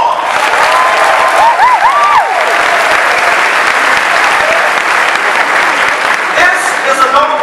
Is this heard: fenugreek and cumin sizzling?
no